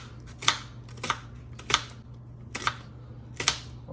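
A small knife chops fruit or onions on a cutting board while cooking bacon carbonara fire noodles: five or six crisp, close knocks at an uneven pace over a low background hum.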